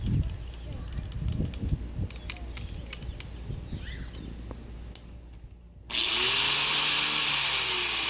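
An angle grinder fitted with a drill chuck spins up abruptly after some handling noises, running with a loud, steady high-pitched whine close by.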